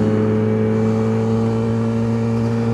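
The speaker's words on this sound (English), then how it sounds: "Those guys are on cruiser type bikes. They don't need to be going that fast up this hill." Cruiser motorcycles powering up a hill at speed, heard as a loud, steady engine drone with strong humming tones that holds unchanged throughout, with no talking.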